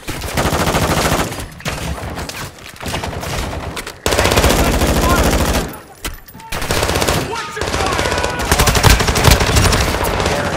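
Loud, dense bursts of automatic gunfire rattle through a Call of Duty DMZ match, coming in long volleys with brief pauses between them.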